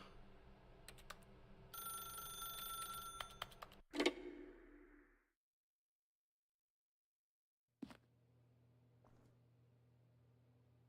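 A telephone rings in The Stanley Parable, a tonal ringing burst for a couple of seconds that cuts off with a thump, followed by silence and then a quiet hum after a click.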